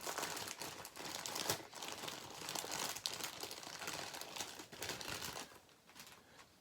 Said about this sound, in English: Next, I'm going to cut open the body here, and we'll see what it looks like as well.